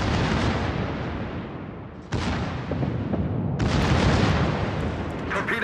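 Heavy naval guns boom in World of Warships as a continuous, loud barrage of overlapping blasts and rumbling explosions, with a sharp fresh salvo partway through.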